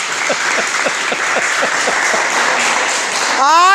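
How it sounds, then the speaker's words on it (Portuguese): A church congregation claps rhythmically in praise, a steady beat of applause under the sound, until a voice bursts in loudly at the very end. "Vamos aplaudir o Senhor, irmãs"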